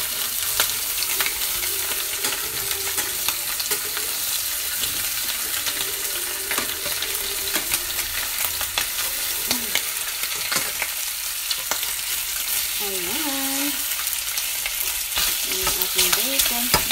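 Bacon frying in a pan, giving a loud, continuous sizzle that fills the whole stretch, with occasional scraping and stirring sounds from the pan close by.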